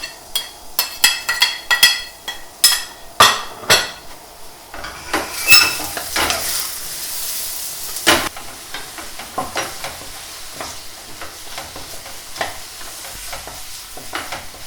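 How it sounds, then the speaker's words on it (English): Oil sizzles in a pan while a utensil scrapes and stirs, producing repeated clattering strokes over a steady crackling hiss. "That's just starting to sizzle."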